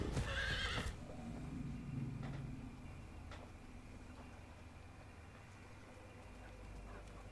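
A horse neighs in a TV show, a short high whinny at the start over a low background rumble, followed by faint scattered knocks and steady hum.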